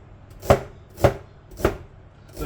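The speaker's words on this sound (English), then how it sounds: "And then finally just chop it like that." Knife chopping vegetables into thin slices for chicken chop suey, four sharp even strikes on a cutting board about half a second apart, close and clear with no talking.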